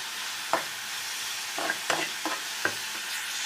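Onions frying lightly in a little oil in a pan, with a steady faint sizzle under several sharp scraping stir strokes, roughly five, spread across the moment.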